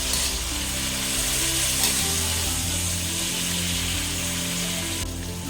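Tomatoes for pinakbet go into a hot frying pan and sizzle loudly and continuously, a dense hiss with faint clicking of pan and utensil underneath and no voices.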